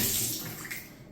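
Water runs from a newly fitted Moen shower faucet through the copper pipe, a steady close, broadband rushing that fades slightly toward the end, with no talk over it.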